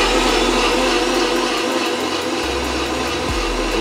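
A Vitamix blender on its smoothie setting, powered from a portable lithium power station, roars loudly and steadily at close range throughout, with no voices.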